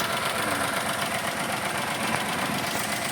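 A 2017 Nissan Almera engine misfiring and shaking at idle, a steady close mechanical hum with an uneven, rough undertone throughout.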